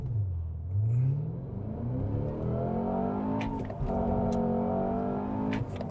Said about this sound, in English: I'm actually going to go ahead and put it into its race mode, and we're going to see if I can do a nice little launch here